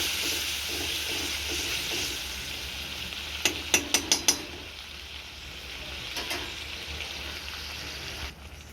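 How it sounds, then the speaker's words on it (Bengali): Okra masala curry paste frying and sizzling in a pan after a splash of water, a steady broad hiss with a brief cluster of sharp stirring clinks midway and fainter ones later. "এবার দিয়ে দেবো সামান্য একটু জল, যাতে মশলাটা ভালোভাবে কষানো হয়।"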